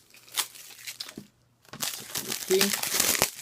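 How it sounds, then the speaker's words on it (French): Plastic wrapping crinkles and tears as a combo Blu-ray/DVD case of the film Unbroken: Path to Redemption is unwrapped, in close, irregular bursts after a brief pause. "Si je déballe le Blu-ray"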